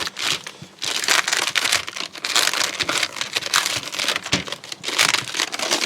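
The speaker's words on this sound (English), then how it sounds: "So you're just slowly peeling this all the way around." A vinyl stencil being slowly peeled off a disc golf disc during dyeing, giving close, continuous crinkling and tearing crackles in uneven bursts with no talk.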